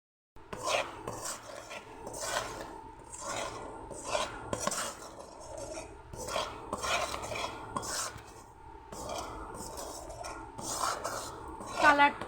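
A spoon scrapes and clinks steadily around a pot while a milk mixture is stirred for homemade sweet yogurt, giving a repeated rhythmic metallic rubbing that continues throughout, close and moderately loud.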